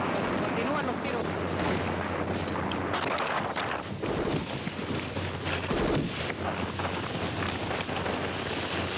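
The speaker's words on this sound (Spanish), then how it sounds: "Continúan los tiros." Gunshots ring out in a city street during a period of unrest, with repeated sharp cracks and booming reports over a constant roar of noise, while voices can be heard in the background.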